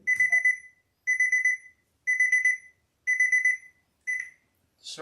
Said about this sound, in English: I'm just gonna ignore the alarm